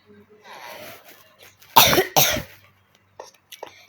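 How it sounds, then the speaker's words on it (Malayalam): Two sharp, loud coughs close to the microphone, one right after the other, with quiet murmuring before and a couple of soft sounds after. "ഒരു ചെറിയൊരു ചുമയുണ്ട്"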